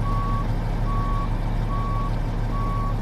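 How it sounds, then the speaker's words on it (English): Reversing beeps from a truck backing up to a trailer loaded with bricks in American Truck Simulator: four steady, evenly spaced tones over a loud, constant diesel engine rumble, with no talking. "and here we are, reversing up to the trailer."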